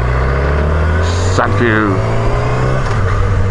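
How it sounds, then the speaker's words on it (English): A car runs close behind a motorcycle on the road, with a steady engine drone and rushing wind throughout and a passing shift in pitch, while a rider talks briefly over it. "There's a car behind me!"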